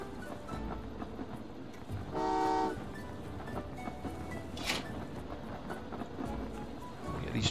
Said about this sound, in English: Get these trains moving with this stuff in it.